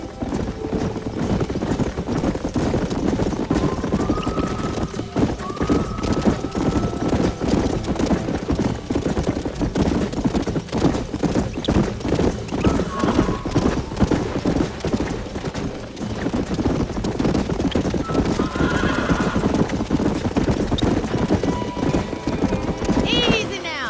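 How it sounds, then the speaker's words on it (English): Horse hooves clip-clop at a steady walking pace in Red Dead Redemption, with occasional whinnies and neighs, while characters talk over the sound. "These are fine horses."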